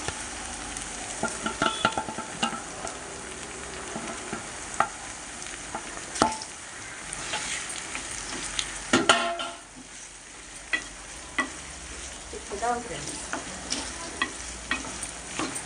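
Large raw prawns sizzle and fry in a pan for a prawn and raw mango curry, with continuous spatula stirring scrapes and clicks over a steady hiss, close and fairly loud.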